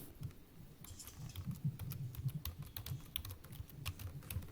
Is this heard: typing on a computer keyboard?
yes